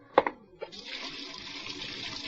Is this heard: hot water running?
yes